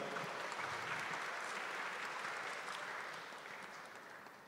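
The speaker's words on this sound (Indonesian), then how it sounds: "Terima kasih, kita berikan ya. Aplaus." An audience applauds at an opening ceremony in Yogyakarta, dense steady clapping that slowly fades toward the end.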